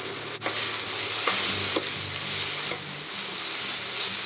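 Garlic and chopped onion frying in extra virgin olive oil, a loud close hiss of sizzling with a few sharp clacks of stirring scattered through.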